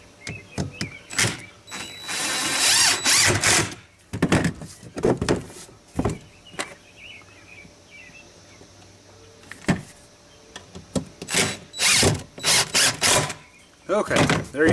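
A power tool sanding a 4-inch PVC pipe turkey feeder, running in loud, rough bursts with short pauses between them, close by, with a voice speaking briefly.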